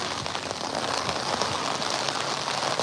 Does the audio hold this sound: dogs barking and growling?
no